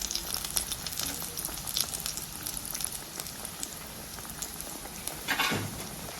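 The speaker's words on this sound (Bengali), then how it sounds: "এখন এক এক করে পেটিস দিয়ে ভেজে নেব" Chicken patties fry in oil in a nonstick pan, a dense rain-like crackle and hiss that swells and eases, with a brief scrape near the end, fairly soft and free of speech.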